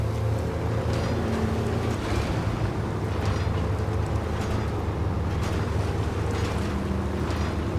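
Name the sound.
cargo boat engine running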